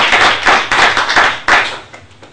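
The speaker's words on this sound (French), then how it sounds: "Si tu es content, acclame plus fort que ça" Audience applause in bursts of clapping, loud and close, rising in three waves and then fading, with no voices heard.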